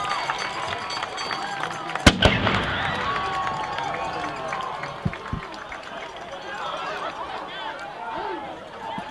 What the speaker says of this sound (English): we're going to get another blast from that cannon